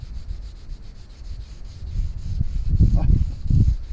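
Scrubbing of an RV wheel outdoors, a rough rhythmic rubbing that builds in loudness toward the end, close and alone.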